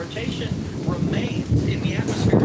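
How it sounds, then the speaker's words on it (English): Rain and thunder from a severe storm in Moore, Oklahoma, with rolling rumbles and wind-driven rain battering close to the mic while someone speaks over it. "the rain is actually blowing straight on my phone right now"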